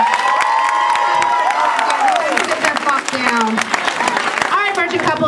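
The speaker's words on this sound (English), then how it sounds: "Everyone give Megan a round of applause." Audience applause and cheering at a live comedy show, loud crowd clapping mixed with whoops and shouting voices throughout, with a host talking over the noise.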